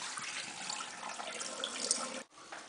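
Tap water runs steadily into a sink while rice is rinsed, a close, even hiss with a brief interruption near the end, and no talk.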